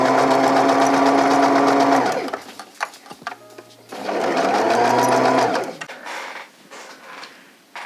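A domestic sewing machine stitches a light blouse in two steady whirring runs of about two seconds each, separated by a pause with small handling clicks and a faint voice.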